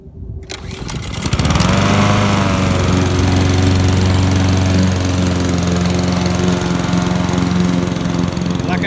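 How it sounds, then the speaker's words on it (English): A lawn mower starts and then runs steadily while cutting annual rye grass, its engine loud and close with a constant drone and a mechanical whine that hold without a break. "one of the issues we're gonna have cutting it with this lawnmower"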